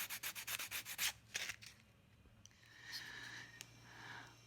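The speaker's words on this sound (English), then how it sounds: "I'm going to sand him just a little bit" A wood carving gets lightly sanded by hand, with quick rhythmic rubbing strokes at first, then a pause and softer, slower scratching, all faint and close.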